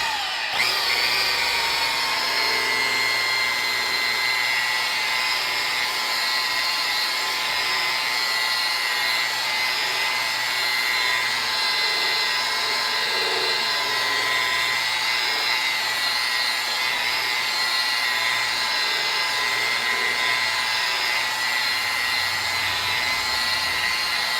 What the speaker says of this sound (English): turn the buffer the other way